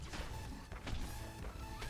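A Smasher enemy being smashed in Fortnite Save the World, a cluster of heavy crashing thuds and whacks over a busy game din, moderately loud.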